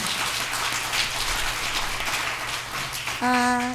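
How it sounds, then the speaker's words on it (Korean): A church congregation in Korea claps together in a sustained, even wash of applause. A bright held keyboard chord enters just at the end. "하나님 앞에 영광의 박수 올려드립니다"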